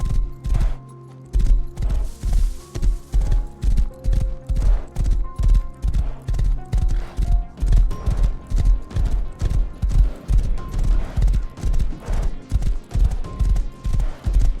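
Horse hooves pounding a road in the survival video game Rust, a loud, rapid, rhythmic galloping clatter sustained throughout, with a short pause near the start and faint tonal background sounds.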